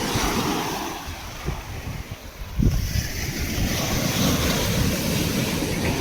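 Ocean waves wash and break steadily along Khavna beach, a continuous roar of surf mixed with gusting wind buffeting the microphone, with a slightly louder surge partway through.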